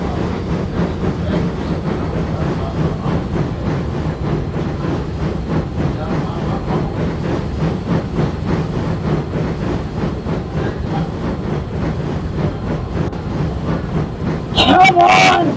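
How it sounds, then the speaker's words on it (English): Steady rhythmic rumble and clatter of two steam engines pulling a train uphill, continuous and fairly loud, with a brief higher burst near the end. "And with that, Donald and Douglas started pulling Scotsman and his train up the hill."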